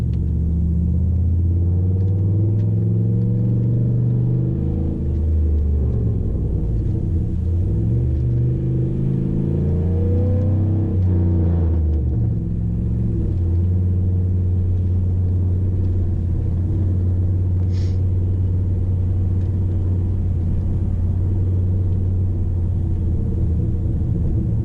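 A 2007 Pontiac Grand Prix GXP with its LS4 V8 drives through snow, its steady low engine rumble swelling and easing as the revs rise and fall, close and continuous with no talking.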